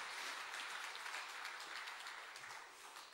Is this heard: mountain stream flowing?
no